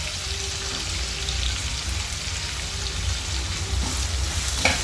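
Vegetables such as carrot fry steadily in a pan for fried rice, giving a continuous close sizzle with occasional stirring scrapes and no voices.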